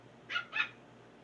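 A puppy gives two quick, faint barks in close succession against near silence.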